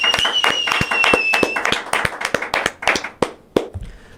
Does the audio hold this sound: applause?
yes